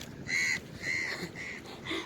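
A crow caws four times in a loose rhythm, loud and fairly close, each call harsh and drawn out.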